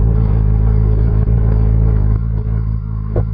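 VOGE RR 500 S motorcycle making a U-turn from a standstill, its engine a close, steady low rumble that softens and wavers slightly as it turns.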